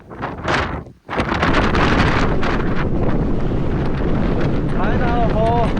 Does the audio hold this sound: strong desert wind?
yes